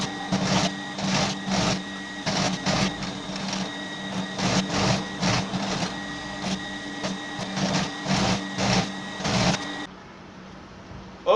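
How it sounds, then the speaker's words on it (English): Overlock machine finishing the fabric edges of a woman's trousers, a loud rapid rhythmic mechanical whirring with pulsing stitches that runs steadily for about ten seconds, then stops. "I have the weaving machine here, so I'm going to weave this thing."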